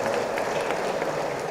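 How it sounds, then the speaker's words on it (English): Audience applause at a crowded digital entertainment festival event in India, a dense, steady roar of many hands clapping at once, loud and sustained without speech. "I think he deserves a big round of applause, guys."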